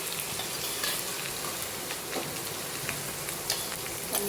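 Spiny gourd frying in hot oil with mustard seeds and garlic, a dense continuous crackling sizzle like rain on a surface, close and steady with a few sharper pops, no voices.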